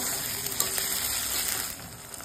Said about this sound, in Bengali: ভালো করে কষিয়ে নিতে হবে অন্তত 10 মিনিট মশলাটাকে